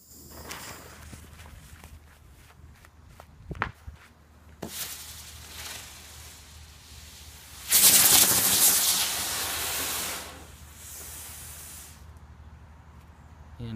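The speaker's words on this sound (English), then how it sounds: "Now we're going to do a Ladybug by Brothers Pyrotechnics" A Brothers Pyrotechnics Ladybug spinner firework goes off outdoors: after a few scattered pops and footsteps, a loud sustained hissing whoosh bursts out, holds for several seconds, then thins and fades out.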